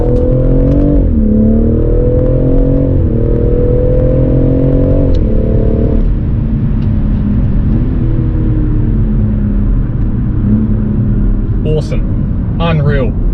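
A BMW M140i accelerating hard in second gear from 3,000 RPM, its loud engine note climbing steadily, dropping at a shift, then rising again, with a couple of brief high squeaks near the end.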